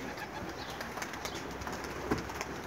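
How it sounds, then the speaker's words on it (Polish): Soft pigeon cooing murmurs through a steady background hum, faint and somewhat distant, with occasional rustles, inside a pigeon loft. "O, są już takie też gruchające gołębie."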